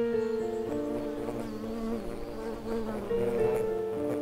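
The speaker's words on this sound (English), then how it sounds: "This is a male wool carder bee." A male wool carder bee buzzes steadily and close on a summer territory among flowers, its wingbeat drone wavering in pitch as it hovers and darts, with no voices.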